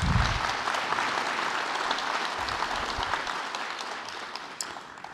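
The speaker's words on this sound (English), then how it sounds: "Can we give them, please, a round of applause?" A conference plenary audience gives a round of applause, a full sustained burst of clapping from a large crowd that slowly tapers off toward the end.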